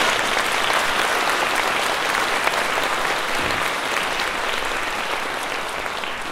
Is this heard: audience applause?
yes